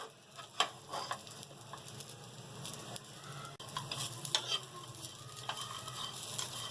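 Almonds and pistachios roasting in a pan for sheer khurma, giving a soft steady sizzle with scattered light stirring scrapes and crackles throughout, fairly quiet and with no voices.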